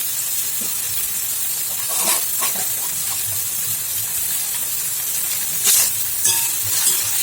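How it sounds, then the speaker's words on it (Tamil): Green chili and onion sauté in a pan, giving a steady soft sizzling hiss with a few light scrapes and clicks from stirring partway through, no voices. "வதங்கட்டும் இப்போ இதில் வெங்காயம் வதங்கிடுச்சு"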